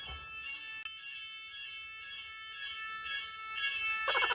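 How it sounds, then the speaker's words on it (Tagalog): Electronic alarm in a Paris hotel room sounding again, a faint steady tonal beeping that carries on for several seconds and grows louder near the end, with no talk. "Ayan, nag-a-alarm na naman po siya."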